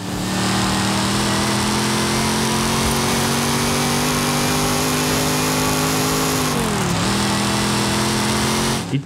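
Supercharged, tuned 1968 Pontiac Firebird engine in Forza Horizon 5, a loud continuous drone holding near steady, dipping briefly and swelling again before cutting off at the end.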